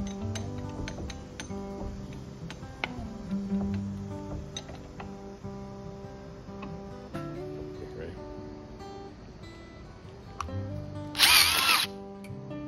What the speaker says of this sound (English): I'm gonna take my paddle bit and make my holes.